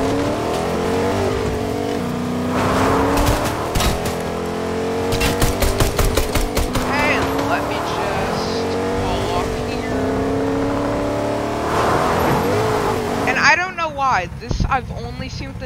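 Cars driving in the Fortnite video game, engines revving up and down in rising and falling whines with bursts of clatter and tire noise, a person talking over the game sound throughout.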